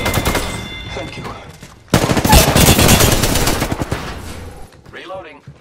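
Automatic gunfire in the Apex Legends video game, loud and close: rapid rattling bursts that break off briefly, then return as a harder, denser volley before fading.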